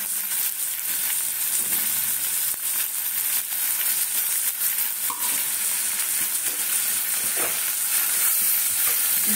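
Spices, salt, Kashmiri chilli powder, onion and tomato sautéing in a pan for a jackfruit and prawn curry, a continuous close sizzle broken by stirring clinks and scrapes, no voices.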